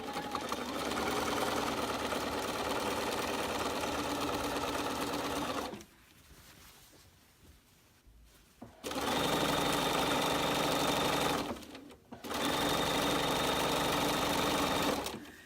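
Sewing machine stitching a holiday table runner, close and steady motor whir with needle chatter in three long runs broken by short pauses.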